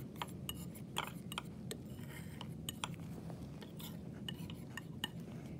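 A spatula spreads and mixes zinc phosphate cement over a wide area, making a steady run of light scraping clicks and small metallic ticks close by, with no talk.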